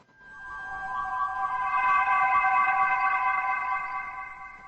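Teleportation effect from the 1970s TV show The Tomorrow People, a steady electronic tone with several sustained pitched layers that swells in over about a second, holds, then fades slightly near the end, with no speech.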